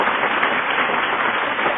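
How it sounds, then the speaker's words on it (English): Audience at a live broadcast talk show breaks into applause, a dense, steady wash of many hands clapping at once, sustained and fairly loud without a break. "they're giving you a round of applause"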